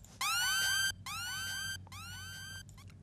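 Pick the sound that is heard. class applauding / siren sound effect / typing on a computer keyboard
siren sound effect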